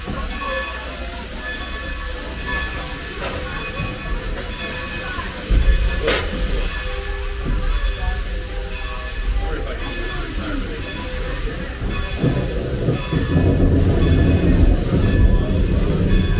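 A Strasburg Rail Road passenger train hauled by steam locomotive #90, heard from aboard as a continuous rolling rumble with steam hiss and rattling cars, a brief sharp high accent early on and the low rumble swelling louder toward the end.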